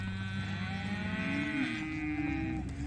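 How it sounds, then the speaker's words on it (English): Cattle moo loudly and close during steer sorting, one long, drawn-out, rising and falling low bellow filling the whole moment, with no talk. "What we're doing is sorting our steers out."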